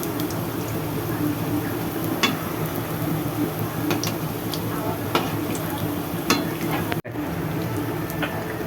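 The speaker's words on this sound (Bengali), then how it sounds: "মিডিয়াম আঁচে রেখে রেখে এটা ভাজবো" Vegetable chops fry in a pan over medium heat with a steady, soft sizzle and occasional small pops and stirring clicks.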